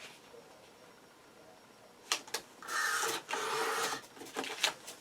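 Paper by Stamperia is cut for a handmade Alice in Wonderland mini album, giving a few short crisp slicing and rasping strokes, close and fairly quiet, with no talk.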